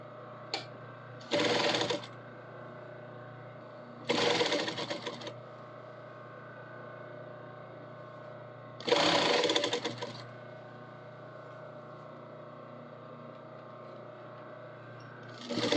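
A sewing machine runs in three short bursts, each a second or so of rapid loud stitching, with quiet pauses between them over a low steady hum.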